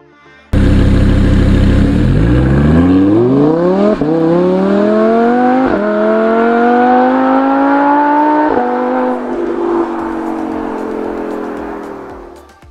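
Lamborghini Huracán LP-580 revving hard on the move, its engine note climbing sharply through several gears, with brief dips at each shift before it eases off near the end. Loud and close, with no voices.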